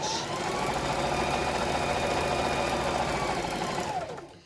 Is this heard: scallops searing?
no